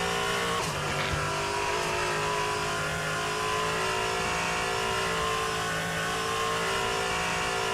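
An LMP3 prototype race car at Silverstone is heard from onboard: a loud, continuous engine drone holds steady with smooth pitch rises and falls through the corners. No one speaks.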